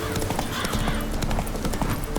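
A horse in The Witcher 3 game trots with a quick, steady clip-clop of hooves, loud and close, over a dense background of game sound.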